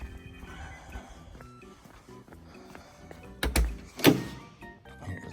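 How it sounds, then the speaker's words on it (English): The door of a full-size Mario Kart replica shuts with two quick solid thunks close by, following quiet handling noise, with no one speaking. "Watch the door, listen to this. Just close wonderfully."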